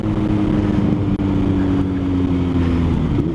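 A Kawasaki Z H2 motorcycle at a drag strip holds a loud, steady high-rev engine drone with a fixed harmonic tone and a brief stutter, consistent with bouncing off the rev limiter.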